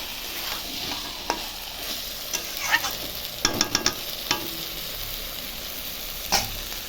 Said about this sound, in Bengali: ভালো করে মশলার সঙ্গে মিশিয়ে নিয়ে এখন আমি ভালো করে মিশিয়ে নিচ্ছি